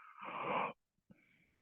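A person voices an imitation of a cut-off yawn, a breathy, wheezy exhale that stops abruptly, followed by a pause and a fainter, softer breath.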